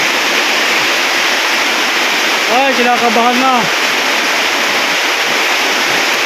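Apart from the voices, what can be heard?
heavy rain falling nonstop, floodwater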